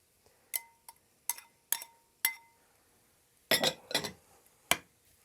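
Dry macaroni pours into a cast iron frying pan already holding rice, giving several sharp clinks and rattles in short bursts, close and otherwise quiet.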